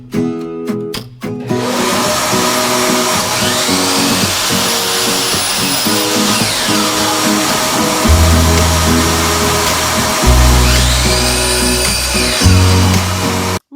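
A miter saw cutting raw 8-foot timbers to size in a woodworking shop, a few sharp knocks, then a loud sustained whine with repeated deeper cutting surges as blades bite the wood.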